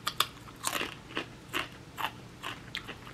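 Bites into crunchy TGI Fridays cheddar and bacon potato skins from a Dollar Tree taste test, a close crisp crunch followed by about half a dozen loud, evenly spaced crunchy chews with no talking.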